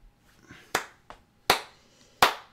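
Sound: people clapping hands

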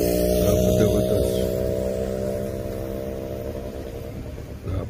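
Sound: busy road traffic of cars and motorcycles at junction

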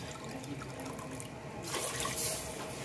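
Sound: water being poured into a pot for cooking rice

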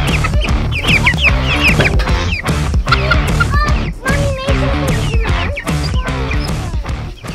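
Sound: Cornish cross chickens clucking

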